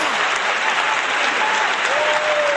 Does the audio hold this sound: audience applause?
yes